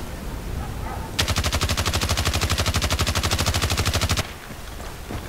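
Full-auto machine gun fire at medium range in Battlefield Play4Free, likely an MG36 or QBB-95, as one loud sustained burst of rapid, evenly spaced shots lasting about three seconds, with quieter game ambience before and after.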